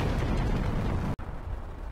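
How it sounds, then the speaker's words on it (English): Powder stores blowing up inside a fort in the Final Fantasy Tactics video game: a sustained, dense, loud rumble of explosions filling the whole clip, broken by a sharp dropout near the middle before the blasts roll on. "That powder that the fort is full of for dramatic effect is exploding for some reason."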